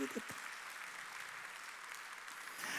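Faint congregation applause during a Sunday church service at Jesus Centered Church, a soft wash of clapping in the background that swells slightly at the end, with a brief voice at the start.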